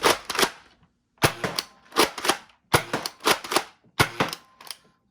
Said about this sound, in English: All right, let's do some test firing of the hyper.